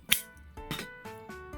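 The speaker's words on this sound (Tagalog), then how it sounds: "Mga tambay, bubukas tayo ng dilata. Palaki ng dilata to" A large tin of sardines being opened, with a sharp metallic click and pop followed by several short scraping, squishing bursts of the lid peeling back, close and moderately loud.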